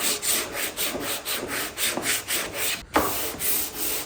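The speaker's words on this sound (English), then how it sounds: "Sand the edges in with a belt sander." A belt sander runs along the edges of a wooden door, a loud, continuous abrasive rasp with rhythmic back-and-forth swells and a brief thump near the end, close and without talk.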